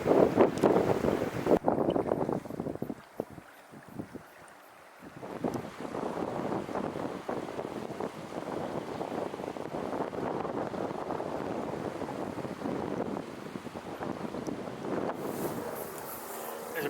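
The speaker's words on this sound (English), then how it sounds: "So windy today." Gusty wind blows by a New Zealand river on a summer day, buffeting the microphone in steady roaring surges with a brief lull, loud and close, with no talking.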